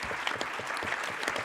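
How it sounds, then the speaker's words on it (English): Steady applause from a conference audience at a security-industry speed debate, dense and continuous throughout with no voices over it. "Give them a round of applause."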